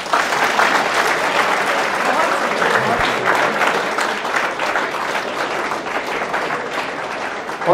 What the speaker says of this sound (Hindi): तालियां बजा दो यार।